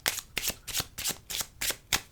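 A deck of playing cards being shuffled and cut, seven sharp riffling bursts in a steady rhythm, close and loud with no talking.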